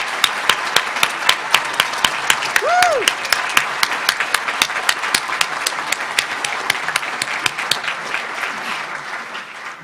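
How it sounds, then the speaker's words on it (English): Graduates and guests applaud one another at a 2019 College of Education hooding ceremony, sustained close clapping with sharp individual claps standing out and a single whooping cheer partway through. "One more round of applause for each other,"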